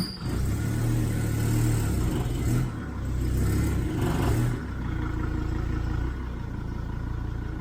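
A van with a freshly transplanted engine is driven out, its motor running loud and close with a steady droning whir, dipping briefly a couple of times, then settling to a lower, continuous hum.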